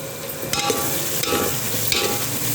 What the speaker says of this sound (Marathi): हळद कोथिंबीर पण आपल्याला तेलातच टाकून घ्यायची